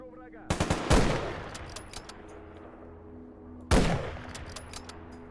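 Gunfire in Stalker GAMMA: a quick cluster of loud, sharp shots early on, then a single heavy report a few seconds later, each ringing out and fading, with quieter clicks and rattles between them.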